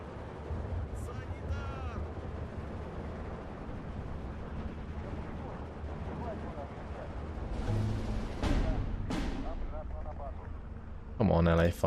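In the video game Steel Division 2, aircraft strafe infantry amid a dense battle rumble of gunfire and explosions. Sharp bursts and sweeping roars stand out late in the clip, and a voice talks throughout.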